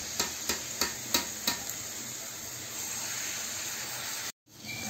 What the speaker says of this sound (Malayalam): എണ്ണ ചൂടായി ഞാൻ ഒഴിച്ചുകൊണ്ടിരിക്കുകയാണ്